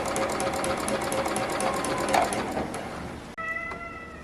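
A sewing machine runs a fast, steady stitch through fabric while a 1990s playsuit is sewn from a vintage pattern. The close, even whirring cuts off abruptly near the end, and a brief higher tonal sound follows.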